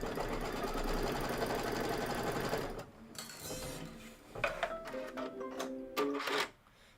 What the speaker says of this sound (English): And then you're going to do your 1/4 inch seam allowance.